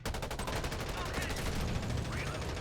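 Dense, rapid automatic gunfire from a first-person shooter video game crackles steadily and loud for the whole stretch, with no voices.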